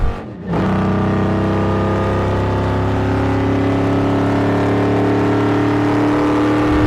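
A 1973 Plymouth Fury race car's engine runs on track at a 24 Hours of Lemons endurance race, a loud sustained roar with steady harmonic drone after a brief dip at the start.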